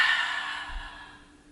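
A long exhale during a yoga flow, a soft breathy sigh that starts fairly strong and tapers away over about a second and a half, heard alone without talk.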